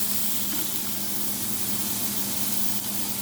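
A steak sears in a hot pan with a loud, steady hiss and spatter that runs unbroken from start to finish, close up and without talk.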